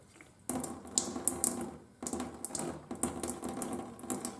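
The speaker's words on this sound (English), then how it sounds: "I'm going to drain the fuel completely out of the filter." Fuel drains out of a John Deere tractor's fuel filter in a quiet, irregular trickle. The splashing and dribbling start after a brief silence and continue unevenly.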